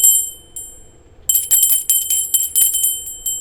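Bell ringing sound effect: a bright, high metallic ring that starts, fades, then comes back as a rapid flurry of repeated dings, loud and close with no voices.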